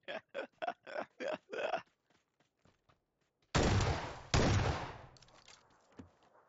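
Rapid bursts of S12K shotgun fire in a video game, two heavy loud blasts with a trailing rumble after a run of short clipped pops, no talk over it.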